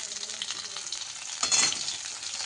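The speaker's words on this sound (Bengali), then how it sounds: "তাই আমি লাস্টে দুটো মাছ ভাজা বসিয়ে দিচ্ছি" Fish sizzles in hot oil in a kadai, a continuous crackling hiss with sputtering pops, swelling into a louder burst of spitting midway before settling back to a steady fry.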